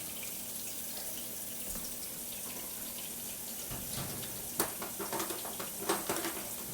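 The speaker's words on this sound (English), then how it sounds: "I'm going to scrub it in water real quick" A potato scrubbed under a running kitchen tap, a steady hiss of flowing water with wet splashes and scrubbing rubs picking up toward the end, close and continuous.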